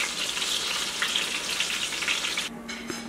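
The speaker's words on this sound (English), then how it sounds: "I'll let the vegetables simmer a little bit." Vegetables simmer in a pan alongside chicken cutlets, giving a close, steady hiss and bubbling with no voices.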